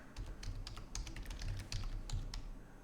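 Typing on a computer keyboard while writing Python code: a steady run of quick, close key clicks and taps with an uneven rhythm, heard alone for about three seconds.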